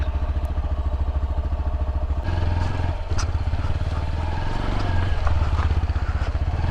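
A motorcycle engine idles with a rapid, even thumping pulse, then revs up and pulls away as a ride begins, the note rising slightly and staying loud and close throughout.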